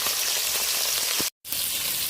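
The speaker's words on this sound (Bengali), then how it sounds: "অল্প অল্প মাছ দিয়ে ভাজলে মাছ ভাজাটা ভালো হয়" A small batch of sea fish (khoira) fries in a pan with a dense, steady, loud sizzle and crackle, broken only by a brief moment of silence partway through.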